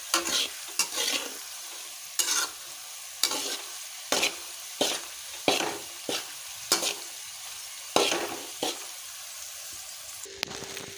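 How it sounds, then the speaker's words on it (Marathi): Fasting khichdi being sautéed in a pan, with a soft background sizzle and a series of distinct spoon scrapes and stirs at irregular intervals, fairly quiet and close. "थोडा वेळ परतली की छान असा कलर येईल याला"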